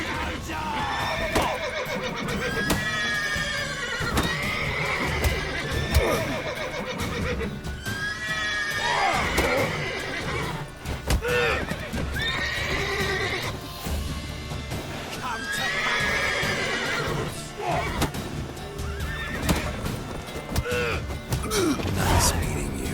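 Horses in The Witcher 3 whinny repeatedly over clopping hooves and creaking, with voices talking throughout.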